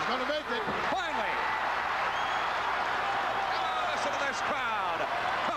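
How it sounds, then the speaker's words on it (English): A wrestling arena crowd at a WWF tag-team match roars and applauds steadily throughout, a dense wash of cheering with scattered shouts, while an announcer talks over the noise. "Crowd come to life."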